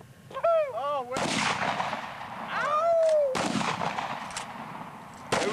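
Guns fired outdoors at a shooting session: loud broadband blasts burst in at about one and three seconds and again near the end, each with a long rumbling tail, following a high whistling, warbling tone at the start.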